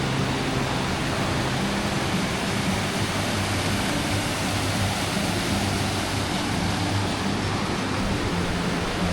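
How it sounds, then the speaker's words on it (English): Steady, loud rushing roar of a waterfall on a river beside the Pacific Crest Trail between Snoqualmie Pass and Stevens Pass, Washington, filling the whole stretch without letup and with no voices. "This is some waterfall all the way up the top."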